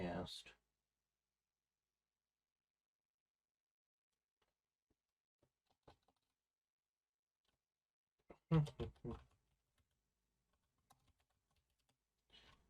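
Typing on a computer keyboard comes in two short bursts of clicking keys separated by long quiet gaps, with faint isolated taps in between, close and fairly soft.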